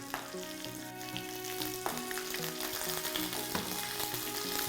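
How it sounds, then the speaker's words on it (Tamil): Green chilli and ginger sizzle and fry in hot oil in a pan for wheat rava kitchadi, a steady close crackle with occasional louder pops and stirring clinks. "நம்ம அந்த ஹீட்லேயே அந்த இஞ்சியும் நல்லா பொறிஞ்சிடும்"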